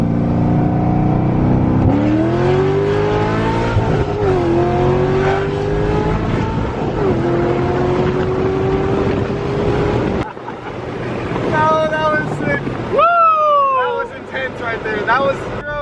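A Corvette Z06 accelerates hard from a first-gear 40 mph roll, its engine note climbing steeply under loud wind rush with people talking over it, then easing before a second sharp rev near the end.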